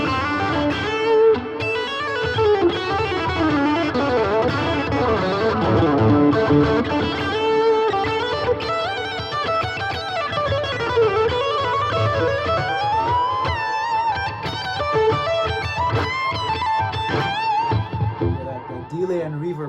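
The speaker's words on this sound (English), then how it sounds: "Let's go to this Marshall sound that's more for like a lead tone." Distorted electric guitar lead tone through a Boss ME-90 multi-effects pedal on its Marshall-style amp setting, played on a split bridge pickup; a continuous, loud run of sustained and bending notes fills the whole passage.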